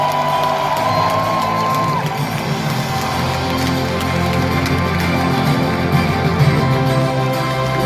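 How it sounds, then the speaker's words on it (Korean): A large stadium crowd roars and cheers at an LG Twins Korean Series championship celebration at Daejeon's Hanwha Life Ballpark, a dense, loud, continuous wash of shouting and whooping close around the listener. "명승부를 펼쳐준 양팀 선수와 코칭 스태프 여러분께 다시 한번 뜨거운 박수를 보내주시면 고맙겠습니다."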